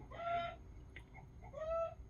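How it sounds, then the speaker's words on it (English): A backyard rooster gives two short, loud calls about a second apart, close to the microphone. There is no talking, only a low background rumble. "my rooster is seriously going crazy right now"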